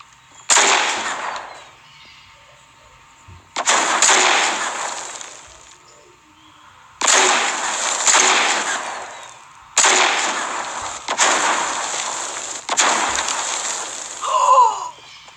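Rocket launcher blasts in a video game, solo high-explosives mode: a series of about five loud booming explosions, each a sharp burst with a decaying rumble, spaced a couple of seconds apart with near silence between.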